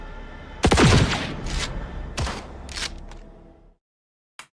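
Gunshot effect from a video game scene: a loud, sharp blast with a short ringing tail, followed by a couple of weaker bursts that decay into silence, then a faint brief click at the end.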